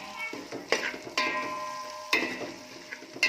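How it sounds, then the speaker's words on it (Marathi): Cabbage sautéed in a pan with onion, potato and green chilli for masale bhaat: close, repeated scraping stirs in bursts over a soft frying sizzle, with no talking. "कोबी पण व्यवस्थित परतून घ्यायचा ना."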